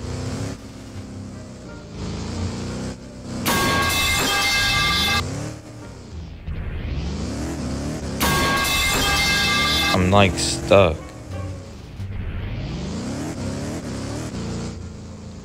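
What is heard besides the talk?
car engine while driving blindfolded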